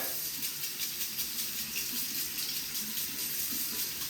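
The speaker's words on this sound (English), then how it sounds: "So what I do is I first turn on the water" Steady hiss of hot water running from a bathroom sink faucet, continuous and close, with no one talking.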